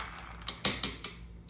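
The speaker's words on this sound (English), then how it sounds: "I need to stir it, a little stir in there" A spoon stirs a sleepy girl mocktail in a glass, giving several bright, distinct clinks against the side in an uneven rhythm over a soft background hum.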